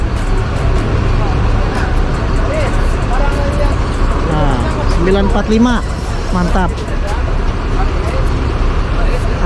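Buses pull into Kampung Rambutan bus terminal amid dense traffic rumble, engines droning steadily nearby with occasional horn-like tonal blasts, while people talk over the crowded, noisy scene.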